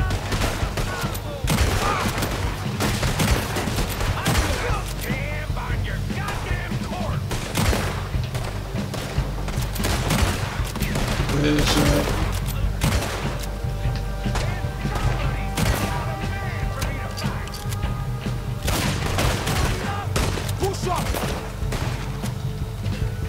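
Red Dead Redemption 2 shootout with continuous rapid gunfire, shots cracking close and loud in dense overlapping bursts over a low rumble for the whole stretch.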